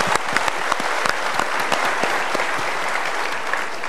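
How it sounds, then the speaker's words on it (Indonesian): Enthusiastic applause from a studio audience at an Indonesian motivational talk show, dense clapping with sharp individual claps standing out, continuous throughout. "kita berikan tepuk tangan dulu untuk ibu"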